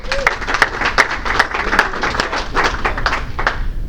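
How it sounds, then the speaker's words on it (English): Audience applause at a cybersecurity training event, a steady wash of many hands clapping at close range for about four seconds with no pauses. "let's give all those people a round of applause"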